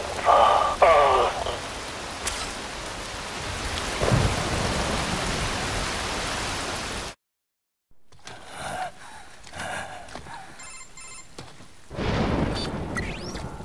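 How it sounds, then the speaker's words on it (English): Steady rain hisses down in a Metal Gear Rising game scene, a dense broadband wash with occasional louder splashes, dropping out briefly to silence before softer, patchier rain and clattering effects resume. "Rain falls."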